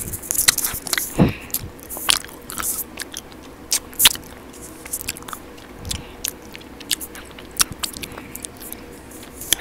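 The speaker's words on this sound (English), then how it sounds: "Chewing like that" Close, crisp crunching of a snack with peanuts being chewed, irregular bites and sharp cracks recurring throughout, loud and near with no talking.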